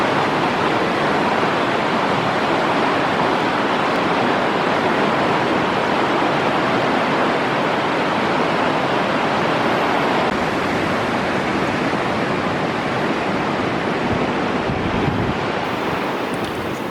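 Rushing river water in Marble Canyon, Kootenay National Park, heard from a bridge high above as a dense, continuous roar, steady and broadband, mixed with wind buffeting the microphone.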